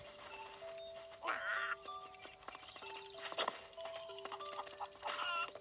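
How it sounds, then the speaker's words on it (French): Chickens cluck in the video game Zelda Link's Awakening, short bursts of fowl calls over a steady game melody with chiming tones and no speech. "Ah, la poule, tu fais quoi ici?"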